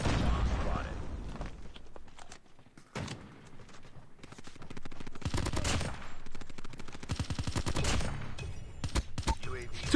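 Video game gunfire comes in several rapid automatic bursts of loud, close shots, separated by quieter gaps with clicks and thuds, and a voice speaks between the bursts.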